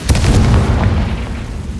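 A Confringo spell blast in Hogwarts Legacy: one deep, booming explosion that hits hard at the start and then rumbles away, with no talk over it.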